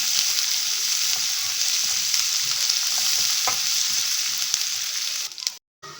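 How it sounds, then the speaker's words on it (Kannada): Chopped onion and dry red chillies frying in a pan for raw banana palya, a loud continuous sizzle with scraping stirs, close up and alone, cutting out abruptly near the end. "ಈರುಳ್ಳಿ ಸ್ವಲ್ಪ ಕೆಂಪು ಫ್ರೈ ಮಾಡ್ಕೊಳ್ಳೋಣ"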